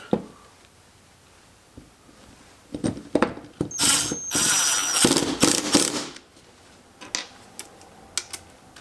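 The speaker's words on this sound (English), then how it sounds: "And now we can screw in our faceplate." Wood screws being driven to fasten a faceplate onto a cherry bowl blank for woodturning, heard as several short whirring bursts and one longer sustained run with mechanical clicks, close and fairly loud against a quiet room.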